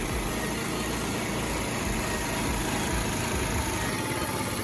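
A Lexmoto FMS 125 motorcycle engine runs at a steady, rough idle, its dense broadband chatter continuous and close with no pauses.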